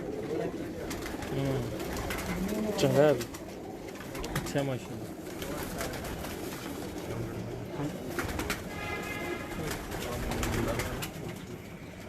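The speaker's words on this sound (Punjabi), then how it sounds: "ਆਪਣਾ ਇਹ ਸਿਆਲਕੋਟੀ ਕਬੂਤਰਾਂ ਦਾ ਕਰਾਸ ਹੈ" Sialkoti cross-breed pigeons coo softly in the background with repeated throaty calls while people talk nearby.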